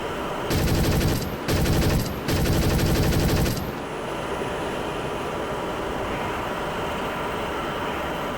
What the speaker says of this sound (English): So I'm going to do an attack with a 23mm cannon.